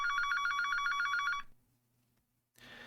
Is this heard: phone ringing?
yes